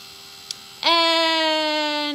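A heat embossing tool switches on and blows hot air in a steady, close whirring hum with a bright whine that holds evenly until the end, after a small click beforehand.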